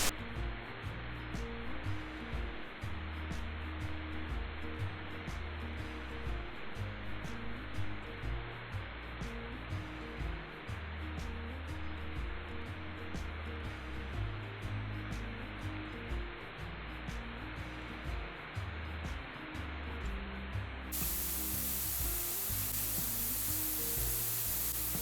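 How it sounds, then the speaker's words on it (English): Bindaree Falls near Mansfield pours down in a loud, continuous roar of rushing and splashing water, heard from directly beneath the falls for the whole stretch. "Oh my gosh, we're standing right under the waterfall."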